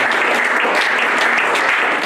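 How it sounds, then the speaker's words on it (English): A church congregation at a homegroup worship service clapping their hands in prayer for healing, a loud continuous burst of many hands close up, steady and dense for the whole stretch. "clap your hands for healing"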